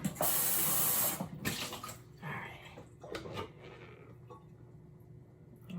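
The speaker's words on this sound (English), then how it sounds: "I might need to rinse this jar." Tap water runs into a jar during rinsing, gushing loudly at first, then sloshing and splashing more quietly as the flow is broken up and slows.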